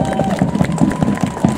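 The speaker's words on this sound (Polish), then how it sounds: "Wielkie brawa!" Crowd applause and cheering at a victory parade in Gdańsk, with rhythmic clapping and a loud voice calling out over it.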